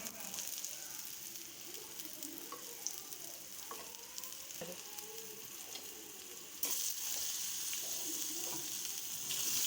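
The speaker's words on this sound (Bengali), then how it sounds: "নিয়ে আলুটা আর ওলটা খুব ভালোভাবে ভেজে নেব।" Pieces of potato and elephant foot yam fry in hot oil for a Bengali yam and hilsa curry, giving a steady, close, continuous sizzle with occasional small pops and a brief rise in loudness near the end.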